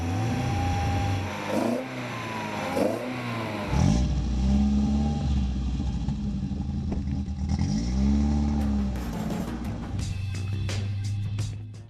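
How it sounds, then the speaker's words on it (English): A 1973 Toyota Corolla Levin coupé with a 1.6-liter engine and Yamaha-developed cylinder head growls while driving, rising and falling through several close, loud revs and gear changes, with light clatter and no talk. "The growl lets everyone know the Corolla isn't just cute."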